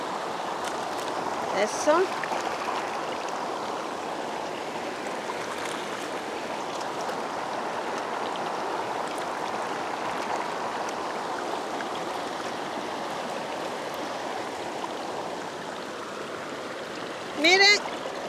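Running water pours steadily while raw pork is washed for making morcillas. The rushing flow holds an even level throughout, and a voice briefly speaks over it.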